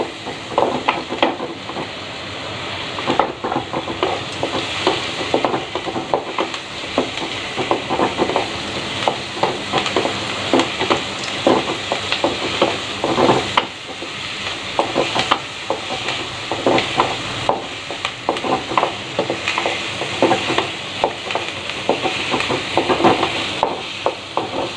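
Tomatoes sauté in a pan for a mushroom pepper curry, a steady sizzle broken by the repeated scrape and clatter of a spoon stirring, close and continuous.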